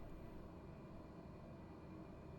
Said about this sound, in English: From our comforting, droning aeroplane, Grand Caravan.